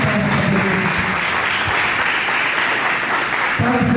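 Applause fills a church service, a continuous broad clatter of many hands clapping at steady loudness throughout.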